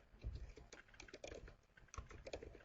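Fingers tap a computer keyboard in a close, quiet, irregular run of keystrokes with no voice.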